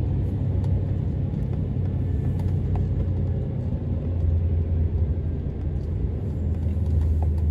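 A long queue of cars and trucks idles in slow traffic on an Italian road, a steady low engine rumble and whir holding at an even level throughout with no voices.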